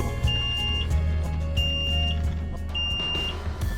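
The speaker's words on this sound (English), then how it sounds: "suddenly an alarm sounded from down below" A shrill electronic alarm on a boat beeps in repeated long tones over a low engine rumble, loud and insistent.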